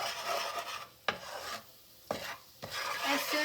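Spices sizzle in warm oil in a pan for a potato and cauliflower dish while a utensil stirs them, giving a soft hiss broken by a few sharp scraping strokes. The sound is close and fairly quiet, and no one speaks.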